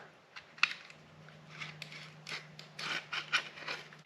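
Scissors snip and scrape through excess rubber window seal on a C3 Corvette, a series of faint close crunching cuts over a low steady hum.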